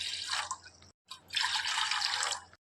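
Water pours steadily into a bowl for orange popsicles in two splashy runs with a brief pause between them, close by and fairly loud.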